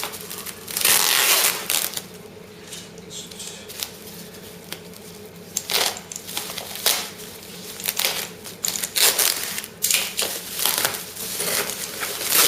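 Car parts for a Ford Cortina Mk3 restoration being unwrapped, with loud, repeated crinkling and tearing of packaging in irregular bursts close by.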